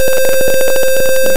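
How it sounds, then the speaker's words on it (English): A buzzer in a Tinkercad simulated ultrasonic-sensor social distance circuit sounds as a loud, steady electronic tone with a pulsing buzz, heard alone. "Buzzer is ringing."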